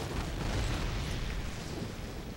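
Claymore mine blast in a Call of Duty match, a dense, rumbling boom whose low roar fills the whole moment and slowly fades.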